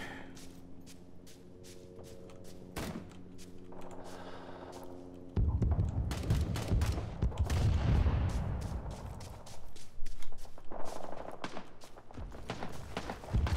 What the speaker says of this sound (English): Barrage strike incoming.